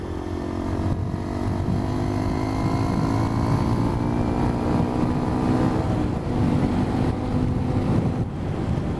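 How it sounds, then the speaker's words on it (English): A 2017 Honda XR150 single-cylinder motorcycle engine and aftermarket exhaust runs steadily with a rising and falling drone and a constant wind rush over the microphone throughout. "So that exhaust makes it sound a lot better than it should do"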